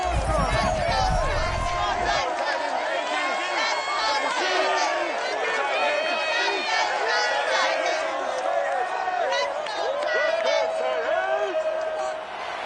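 A large stadium crowd at a Cleveland Browns versus Tennessee Titans NFL game in the Madden Football video game roars and cheers steadily and loudly, a dense wash of voices with no break.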